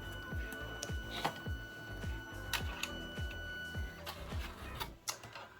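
A Liene PixCut S1 sticker printer runs nearby with a steady mechanical whir and regular ticking pulses roughly every half second, a constant tone humming beneath it and a brief voice in the background.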